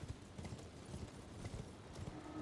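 Donkey hooves clip-clopping in the video game Clank, a steady run of hoofbeats at moderate loudness over a busy game soundscape, with no voices.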